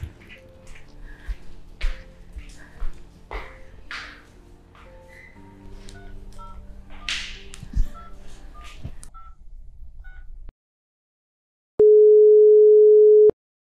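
A string of telephone keypad dialing tones sounds as a number is punched in, followed by a brief silence and then a steady ringing or line tone, with background film sound under the early beeps.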